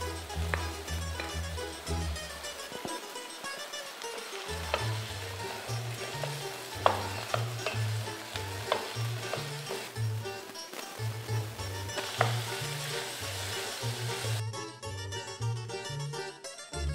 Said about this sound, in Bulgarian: То малко му трябва да се пържи, защото после се пече пак.